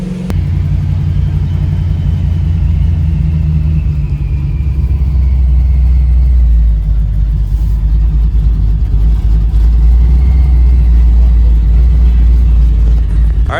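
A procharged 1968 Chevrolet Nova accelerates on the road, its engine a loud, steady, deep rumble from inside the car that swells slightly as it drives on, with no talking.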